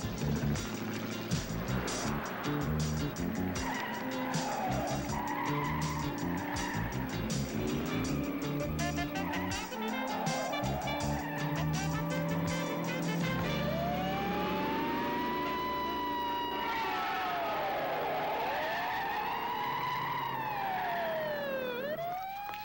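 Police sirens wail and sweep up and down through a car chase, with engines roaring and tires skidding beneath the siren throughout, loud and continuous with no talking.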